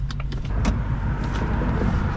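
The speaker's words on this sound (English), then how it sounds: "Let me adjust my seat back from granny to race car driver." Whirring power seat motor inside a 2024 Mustang GT, running in short bursts with small clicks as the seat moves back, heard up close with no talking.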